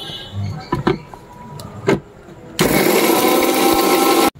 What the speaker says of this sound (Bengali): এটাকে আগে শুকনো মিক্সিতে দিয়ে গুঁড়িয়ে নিই, দিয়ে একটা মিহি পেস্ট বানিয়ে নিই।